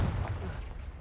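Confringo fire spell blast in Hogwarts Legacy, a dense, loud, booming burst of energy that fills the whole second, with a voice present alongside it.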